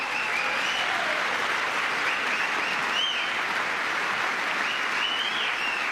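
Sustained applause fills a large chamber during a State of the Union address, steady and dense throughout with no break, loud and continuous.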